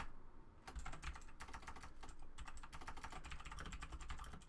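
Rapid, close typing on a computer keyboard, with a steady run of clicky keystrokes that starts after a brief pause and continues throughout without speech.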